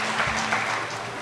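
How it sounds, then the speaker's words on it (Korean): A short burst of clapping from a concert crowd at a band's 40th anniversary show, dense and steady, heard up close for about a second. "박수 한번 주십시오."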